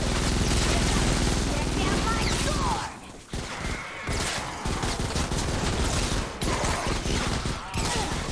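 Rapid bursts of gunfire in Fortnite Save the World, the Stonewood forest zone, dense and loud for the first few seconds, then scattered shots, crashes and game effects, with players talking over it.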